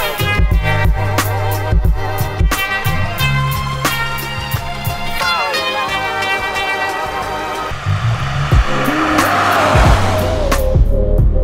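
A V8 Bentley Bentayga drifting sideways on a road, its tires squealing in repeated loud bursts over the revving engine, close by, rising into a long harsh screech near the end.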